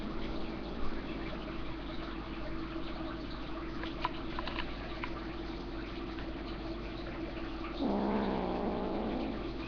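Kittens fighting give off a faint, continuous low growling and scuffling under steady background noise, with a louder hissing burst near the end.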